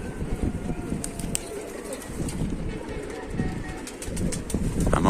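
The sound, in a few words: pigeons cooing in the loft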